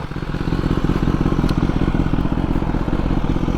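A motorcycle engine runs steadily close by, a loud continuous rumble with a rapid pulsing beat and no voices over it.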